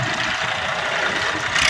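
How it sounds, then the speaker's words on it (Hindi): A tractor engine runs steadily while being driven, a loud, continuous mid-pitched mechanical drone with rough rattling texture and no pauses or talking. "मम्मी को देखिए यहाँ पर ट्रैक्टर चला रही है मम्मी"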